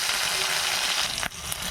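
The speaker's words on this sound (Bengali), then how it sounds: "টমেটোটা আমার ভাজা হয়ে যাচ্ছে" Tomato frying in a pan with a fenugreek-fennel spice mix and a dried chilli for a tangy fish dish, a close, steady sizzle with a brief stirring scrape near the end, no speech.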